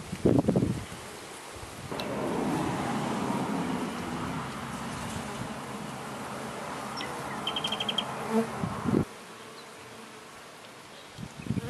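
Honeybees hum around their hive, a steady dense buzzing swarm that rises after a brief quiet start and cuts off abruptly near the end, with a few louder passes close to the microphone.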